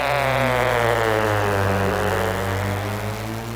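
An animated cartoon wind-up toy plane with a spinning propeller, making a steady, loud, close buzzing whir with a bright harmonic drone that holds throughout and fades slightly near the end.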